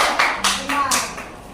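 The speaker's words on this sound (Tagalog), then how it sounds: "Bigyan ng palakpak ng mga." A classroom group claps together in a short burst of applause, several broadband bursts of hand claps close by, with children's voices mixed in underneath.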